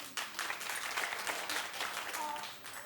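A studio audience claps at a daytime talk show, a dense burst of applause that holds steady for a few seconds and then thins toward the end, with faint voices mixed in.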